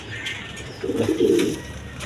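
A pair of Lahori pigeons, a male and a female, coo close by in a single low, throaty burst that rolls for about a second, with faint ambient noise around it.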